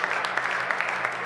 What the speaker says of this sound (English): And applause now for